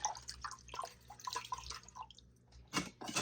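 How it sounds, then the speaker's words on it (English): Water drips and splashes unevenly as a nail brush and a scraper are rinsed off after cleaning, with small irregular spatters and a brief louder gush near the end. "And then I just rinse all those off."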